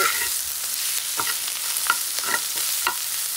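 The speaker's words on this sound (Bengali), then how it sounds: "উস্তা ভাজি করতেছি চিংড়ি মাছ দিয়ে" Bitter gourd frying with shrimp in a pan, a steady close hiss of sizzling oil throughout, with soft repeated scraping strokes of stirring breaking through at irregular intervals.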